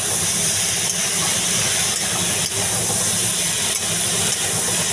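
Cabbage sizzles in a hot pan with cumin and chilli, a steady, dense hiss of frying that holds unbroken and fairly loud throughout, with no voices.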